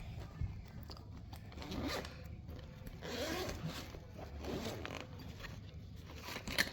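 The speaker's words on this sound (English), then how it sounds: "So go ahead, Delilah, open up the bag." A zipper on a makeup bag being pulled open in several drawn-out bursts of close, scratchy rasping, fairly quiet, with no talk.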